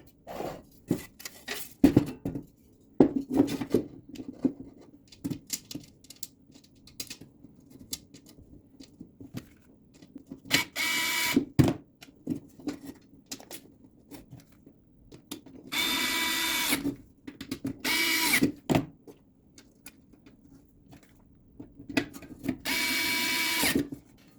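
Screws are driven into an Atumtek adjustable monitor stand riser with a small power driver, giving repeated short buzzing bursts separated by light clicks and handling taps, close and fairly loud with no talking.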